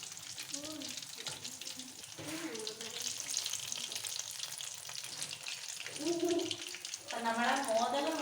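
Modak frying in a pan of oil while being turned over, a steady close sizzle with soft stirring and scraping, brief bubbling bursts, and a livelier crackle near the end.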